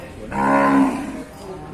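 A young water buffalo at a market gives a single loud, close moo lasting about a second, rising out of quiet background noise and then fading.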